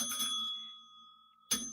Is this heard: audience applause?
no